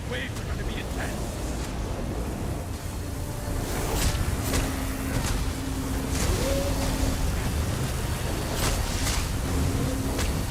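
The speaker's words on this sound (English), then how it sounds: "These waves are going to be intense." Rolling ocean surf from The Elder Scrolls Online, a steady broad wash with a few brighter splashes and faint game tones, heard throughout under other sounds.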